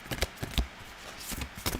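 A deck of playing cards is shuffled in quick bursts of riffling and flicking, close and crisp, with short pauses between passes and no talking.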